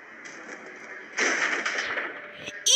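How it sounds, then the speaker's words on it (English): Video game gunfire comes in as a sudden loud burst partway through, over a steady electronic background, with a short sharp report right at the end. "Yes, I'm gonna have to use a gun!"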